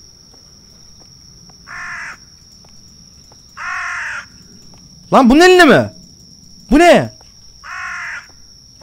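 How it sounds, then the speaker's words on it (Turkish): Birds caw in the horror video game The Bathhouse, with two loud, sweeping calls near the middle standing out over repeated short noise bursts and a steady high whine, and a voice talking briefly. "burada kuş varmış"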